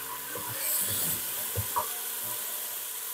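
Fresh ground garlic and ginger fry in a pan with a soft, steady sizzle, broken by a few brief stirring knocks. No one speaks.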